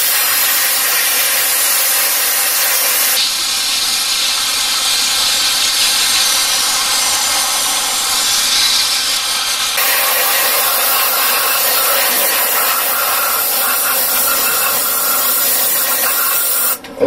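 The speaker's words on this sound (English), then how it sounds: "I'm going to blast a full can on this lock all the way around it" An aerosol spray can emptied in one long continuous blast onto a lock, a loud steady hissing rush that shifts in tone partway through and keeps going for the whole stretch before cutting off at the end.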